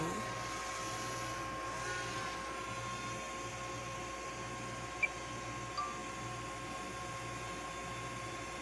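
Drone flying over a cemetery at night, a steady distant buzzing whine that holds even and faint throughout, with a couple of brief clicks partway through.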